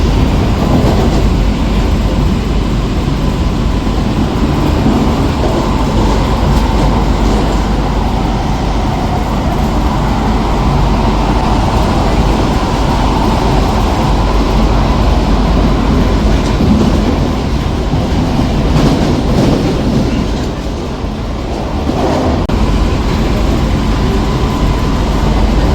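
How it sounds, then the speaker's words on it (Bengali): A passenger train pulls away and runs along the rails with a loud, close, continuous rumble and rhythmic clickety-clack. The sound holds steady the whole time, with no voices over it. "ট্রেন এখন ছাড়ছে।"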